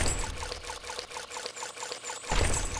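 Water pours in the video game New Yankee in King Arthur's Court, a soft, steady trickling stream that runs alone and swells slightly louder in its final moments.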